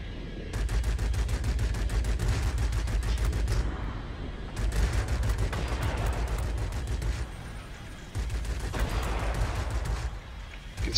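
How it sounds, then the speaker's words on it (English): The cannons of a Yak-30 fighter in the World of Warplanes video game fire in three long, rapid bursts separated by brief pauses, loud and close over a steady engine drone. "You can see the long range capabilities of those cannons."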